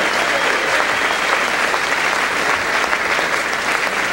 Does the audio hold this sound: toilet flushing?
no